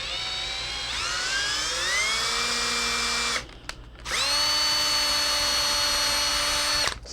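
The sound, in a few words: power drill cutting threads with a tap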